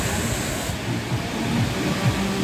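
Steady broadband rush of the Amitabh Bachchan waterfall in Sikkim, a continuous roar of falling water filling the scene with no break and no voices.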